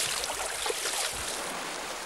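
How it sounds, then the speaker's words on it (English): Water is poured over an elephant during a bath, a soft steady splashing and trickling that stays fairly faint throughout, with a couple of small splashes standing out. "Can I pour some water on?"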